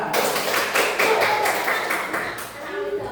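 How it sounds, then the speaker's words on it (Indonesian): A classroom crowd breaks into clapping that carries on steadily with scattered taps, while voices talk and cheer over it. "Tepuk tangan untuk Mas"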